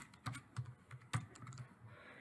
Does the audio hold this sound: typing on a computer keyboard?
yes